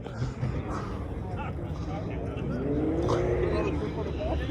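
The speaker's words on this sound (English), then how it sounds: "Here goes the Ram truck." A Ram TRX pickup truck drives by on a street, its engine rumbling and rising as it accelerates past, heard under someone talking.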